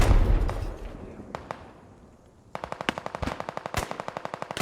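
Rapid automatic gunfire rattles in the video game Squad, a dense run of sharp bursts after a brief quieter stretch with scattered single shots and background rumble, loud and close.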